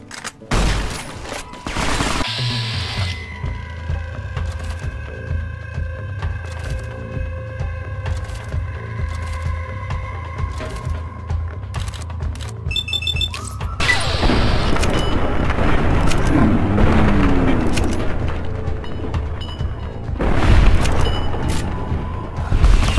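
Gunfire from a firefight in the modded game Fallout New Vegas, with loud sharp shots and booms scattered across the scene, a denser rattling burst of fire in the middle and heavy impacts near the end, with little talk.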